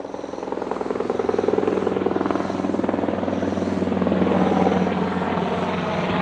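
A helicopter passes overhead with a loud, close, steady beating of rotor blades that swells slightly and stays prominent throughout.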